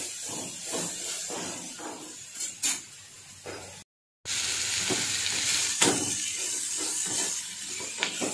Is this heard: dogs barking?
no